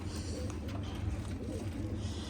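Low, soft pigeon coos repeat in a steady rhythm over a constant background murmur, fairly close and moderately loud.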